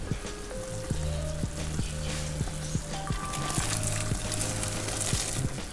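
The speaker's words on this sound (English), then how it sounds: "I already parboiled my rice. I'm going to add it now to the sauce." Parboiled rice goes into a simmering tomato sauce in a pot for party jollof rice. A steady sizzling hiss runs throughout, with soft clicks and splashes of stirring.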